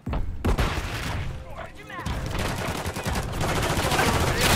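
Rapid gunfire in the video game Call of Duty MW3 rattles in dense bursts and overlapping volleys, loud and continuous, with shouted voices mixed in.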